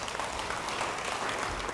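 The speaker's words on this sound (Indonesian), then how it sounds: "Beri tepuk tangan bagi dia." A church congregation at a worship service applauds a speaker, giving a dense, even wash of clapping from many hands throughout, fairly loud and close.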